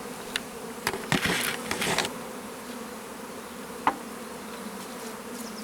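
Honeybees hum in a continuous low drone during a hive inspection, with a few louder bursts and brief sharp sounds near the start and one more partway through, and no one speaking.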